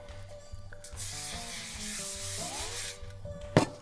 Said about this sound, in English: Spray cook.